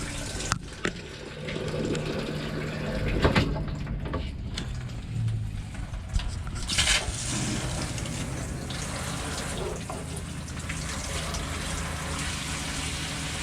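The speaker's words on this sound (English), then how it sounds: "Turn on our shower unit." Water runs from an RV shower unit after dewinterizing, a continuous hiss and splash lasting over thirteen seconds, with a few sharp knocks and sputters early on before the flow settles to a steady rush.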